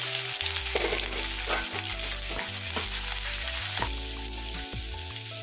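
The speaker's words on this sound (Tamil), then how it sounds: "அப்புறம் ஒரு 4 பெரிய வெங்காயம் ரொம்ப பொடியாக கட் பண்ணி எடுத்து வச்சுருக்கேன். அதையும் போட்டு நல்லா வணக்கிடலாம்." Four large finely chopped onions sauté in a pan for spicy chickpea kurma, giving a steady close sizzle with repeated stirring scrapes throughout, no voices.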